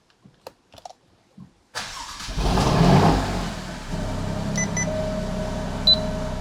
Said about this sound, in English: I'm going to wait about another 30 seconds before I start the engine